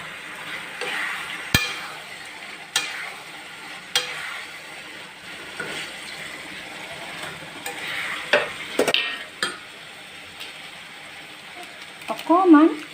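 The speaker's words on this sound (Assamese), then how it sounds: "ভাজি লোৱা মই কোপ্তাকেইটা দি দিছোঁ।" Fried bottle gourd kofta balls are stirred in a pan with a little water, giving scraping spatula strokes and sharp clinks over a low, steady sizzle, with faint noise in the background.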